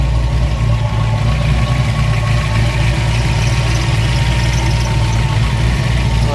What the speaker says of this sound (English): Power steering pumping away.